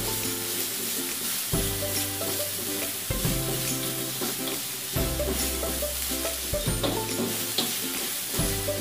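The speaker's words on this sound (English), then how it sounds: "Now we'll add the onions. We will saute this until" Onions sauté in a pan with browned garlic, sizzling steadily and close up. Stirring scrapes break in every couple of seconds, with no voices.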